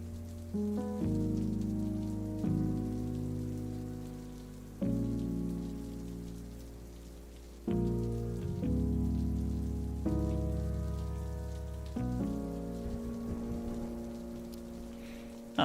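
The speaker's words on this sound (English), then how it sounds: "I find myself in a rainy alley." Steady rain patters down in a dark alley in the video game Necrobarista, a soft continuous hiss running beneath gentle, spaced musical tones.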